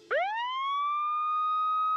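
A voice imitates a police siren, sweeping upward from low to a sustained high wail that holds steadily for about two seconds, loud and close with no other sounds.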